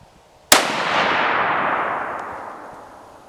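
A single loud Remington 700 SPS .308 Winchester rifle shot with a factory barrel cracks sharply, then a long rolling echo decays over about three seconds outdoors.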